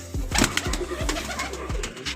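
Pigeons coo nearby in a repeated, rhythmic series of low throaty calls, with faint background noise.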